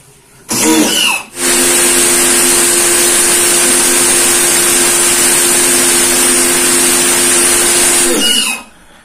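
A Lotus high pressure washer starts with a brief burst, cuts out for a moment, then runs at a steady, loud, constant motor whine with a strong hum for about seven seconds before shutting off.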